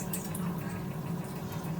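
Water bubbles in a cooking pot on the stove, a steady close churning simmer with faint crackly highs, heard alone without speech.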